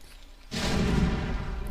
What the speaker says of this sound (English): Another siege tank going down.